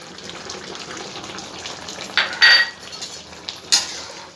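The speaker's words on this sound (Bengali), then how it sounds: "ভালো করে ধনে পাতাটা মিশিয়ে দেবো" A spoon clinks and scrapes against a pan while coriander leaves are stirred into jackfruit curry, a few sharp metallic knocks rising over a faint steady background hiss.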